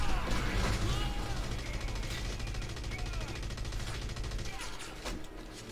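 Gunfire in the video game Red Faction Guerrilla: rapid bursts of shots and crackling impacts over a dense rumbling background, fairly loud and continuous, with a voice talking over it.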